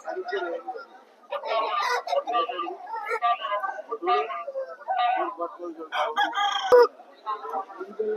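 Roosters crow repeatedly at a busy rooster market in Vijayawada, loud bursts overlapping with clucking fowl and nearby chatter, the calls coming one after another across the scene.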